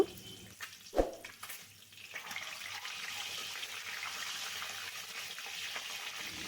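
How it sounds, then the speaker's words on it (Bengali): Scored eggs go into hot oil in a wok for an egg and potato curry, starting with a sharp clunk and splash, then settling into a steady, moderately loud sizzling hiss. "কড়াইয়ে তেল গরম হয়ে গেছে এরপরে ডিমগুলো দিয়ে লাল করে ভেজে তুলে নিব"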